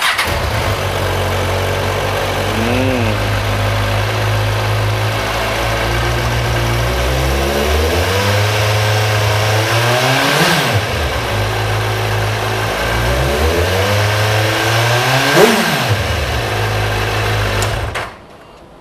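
A motorcycle engine idles steadily, then revs up sharply several times, pitch rising and falling with each throttle blip, loud and close before cutting off.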